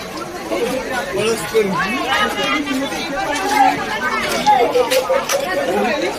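A dense crowd at a village jatra fills the air with steady overlapping chatter and babble, close and loud, with no single voice standing out for long.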